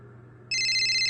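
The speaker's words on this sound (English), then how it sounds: "Oh, my phone's ringing." A phone begins ringing partway through with a loud, steady electronic ringtone that cuts in abruptly over a low ambient hum.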